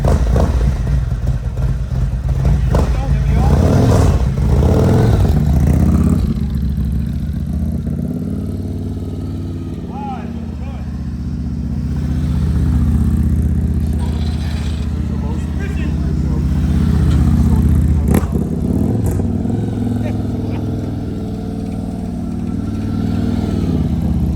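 A Harley-Davidson motorcycle engine rumbles and idles nearby at a Harley dealership meet-and-greet, rising and falling steadily while people chat over it.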